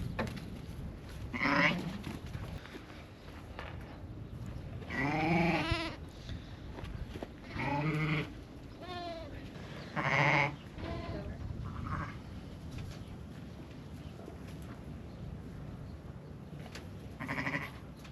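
Sheep and a new lamb on a farm, bleating in several separate, fairly close calls spread across a quiet background, some longer and wavering, some short, with occasional soft movement between them.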